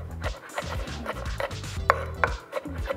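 A knife slicing garlic cloves on a cutting board, about eight cloves being prepared for a balado fish dish, making quick, rhythmic close-up taps and thuds with no talking.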